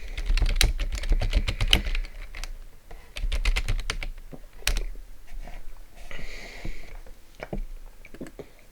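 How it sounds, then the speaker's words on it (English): Rapid clicking of keys on a computer keyboard, typed in quick bursts with short pauses between them, close and fairly clear. "I'm typing it right now."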